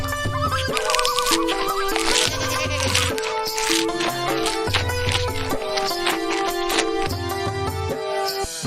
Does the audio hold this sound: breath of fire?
no